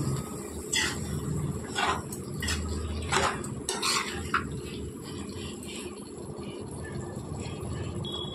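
Fried dry fish being stirred into a tomato curry in a pan, with clattering spoon-on-metal scrapes and knocks spaced irregularly over a steady background hiss, fairly close.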